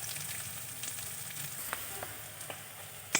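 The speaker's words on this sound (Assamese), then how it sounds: "পিঁয়াজখিনি ৰঙাকৈ ভাজি ল'ম।" Sliced onions crackle and sizzle in hot oil, a steady frying hiss with a few sharp pops and a spatula clink at the end.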